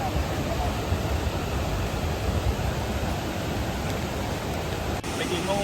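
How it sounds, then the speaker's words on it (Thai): Tat Sao Va waterfall in Laos gives off a loud, dense, steady rush of falling water that fills the whole stretch without pause. "ได้ยินเสียงน้ำตกวะเริ่มแล้วเนาะ"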